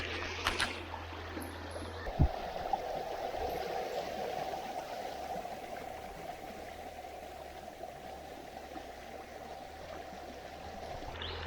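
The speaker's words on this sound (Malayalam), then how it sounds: "അതെ ഈ തോട് കണ്ടോ" A small, freshly cleared stream runs with a steady, soft rush of water close by, with a brief knock early on and a low hum underneath.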